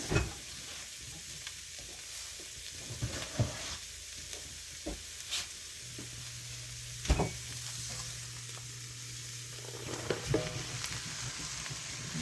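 Rice frying in a pan while being stirred, a soft steady sizzle with scattered scraping and clinking stir sounds at irregular intervals, fairly quiet and close.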